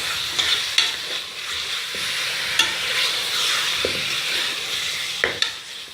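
Meat pieces for haleem fry with onions in a pan, a steady bright sizzle with occasional sharp clinks and scrapes of a stirring spoon, close and without voices.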